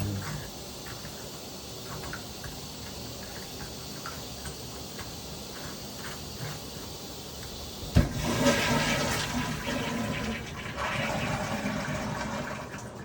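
A rebuilt Sloan flush valve toilet hisses steadily, then a sharp clunk of the handle sets off a loud, rushing flush that roars on and keeps surging to the end, close to the microphone.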